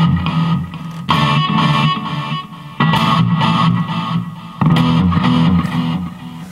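Strummed electric guitar chords ring through a Fender Mustang I amp set to a small hall reverb, with loud, distorted strikes every couple of seconds and a lingering wash between them.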